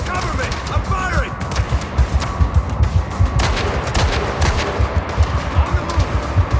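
Rapid bursts of gunfire and explosive cracks fill a firefight in the video game Gangstar Mirage City, with dense repeated shots and a voice calling out over the shooting.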